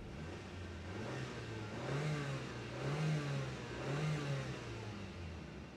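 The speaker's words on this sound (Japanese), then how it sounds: "ではエンジン吹かします。" A Honda City's small four-cylinder SOHC 16-valve carbureted engine revs three times in a steady rhythm, rising and falling from idle. It is close and moderately loud, with no talk.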